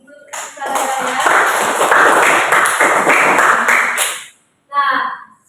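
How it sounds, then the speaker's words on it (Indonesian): Classmates applaud in a school biology classroom, a steady burst of many hands clapping for about four seconds, then a short pause and a voice speaking. "Beri aplaus untuk saudara-saudara."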